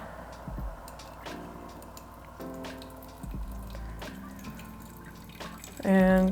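Hot water pours and trickles into a V60 coffee brewer for preheating, a soft running splash with a few drips and clinks, ending in a louder, fuller gush near the end; brief voices appear now and then.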